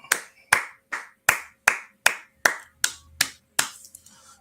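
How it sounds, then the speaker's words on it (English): A group at a biblical law class claps in unison, ten sharp, evenly spaced claps roughly every four-tenths of a second, loud and close, with a faint trailing patter after the last one. "All right, let's clap it up."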